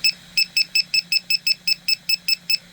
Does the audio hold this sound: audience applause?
no